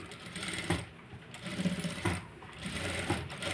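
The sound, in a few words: sewing machine stitching piping along round neck edge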